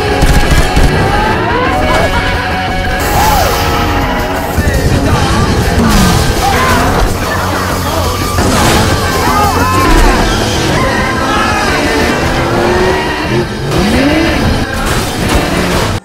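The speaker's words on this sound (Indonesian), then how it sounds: "Aksi kejar-kejaran dan penembakan pun terjadi." Film car chase with gunfire: revving engines and squealing tyres blend with shots and booming impacts under a dense, loud soundtrack, continuous action throughout with occasional voices mixed in.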